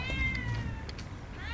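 A cat meows outdoors, a couple of clear, close cries with a quiet gap between them.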